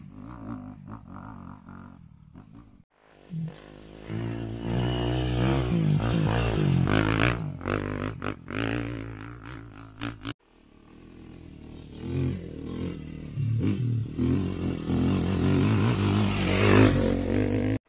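A Honda 250 RX enduro motorcycle with dual exhaust revs hard during an off-road enduro event, its engine rising and falling through several loud bursts with brief drops in between, heard close with no talk.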